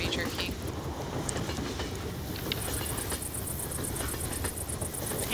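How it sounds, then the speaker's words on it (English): A moving train in Left 4 Dead 2 rumbles steadily and loudly, with a continuous low clatter and faint high metallic clicking over it. "Ah, this train is so jerky."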